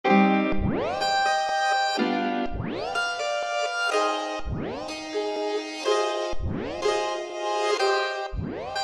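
Pitched-up sample in a beat made in Ableton Live 10, processed with reverb and a sweeping tape-stop style effect; repeated phrases each swoop upward in pitch, then sustain bright and reverberant, loud and alone.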